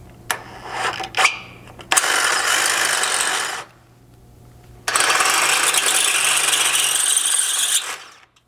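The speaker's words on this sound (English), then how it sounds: "thread in one of the 1/2-inch thread cutting bolts" Ratchet or power tool driving a 1/2-inch thread cutting bolt during a Bronco rock slider install, in two long loud whirring runs separated by a brief pause, with a few clicks at the start.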